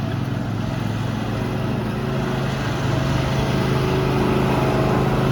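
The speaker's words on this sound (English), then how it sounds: "Dueling lawnmowers." Lawn mower engines race together in a steady, loud continuous drone with no pauses.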